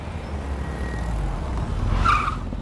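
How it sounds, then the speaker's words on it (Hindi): A car skids and brakes to a stop, tyres squealing briefly near the end over a low engine rumble. "Hey, stop the car."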